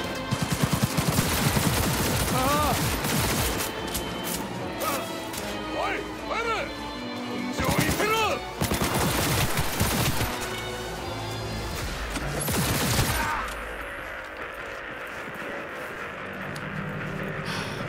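Enemy gunfire in Cyberpunk 2077 rattles in dense, loud bursts of automatic and repeated shots, with clattering impacts between volleys and voices speaking over the firefight before it thins out toward the end.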